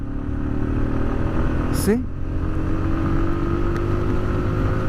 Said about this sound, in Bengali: and currently I am on fourth gear, and this look at this torque,